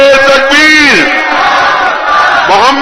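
A large crowd at a religious gathering roars back the takbir slogan in unison, a loud, sustained chorus of many voices lasting almost three seconds and swelling near the end.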